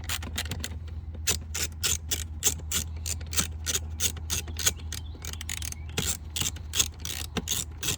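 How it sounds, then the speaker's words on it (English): A hand ratchet clicks rapidly while loosening 8mm bolts beneath the glove box of a 2005 Honda Accord, in bursts of sharp close clicking over a steady low hum, with no speech. "first you gotta remove the 8mm bolts on the bottom"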